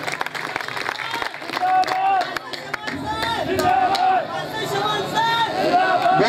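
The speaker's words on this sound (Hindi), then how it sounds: "जोरदार ताली लगाएं भाई साहब के लिए" Audience at a Hindi-language gathering claps for an elderly guest speaker, a steady patter of applause that swells into a fuller, louder ovation, with chatter mixed in.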